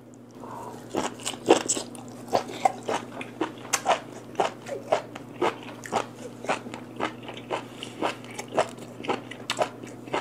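Crunchy, wet chewing of raw white beef tripe, close to the mouth, in a steady rhythm of roughly two bites per second with a low hum underneath and no talking.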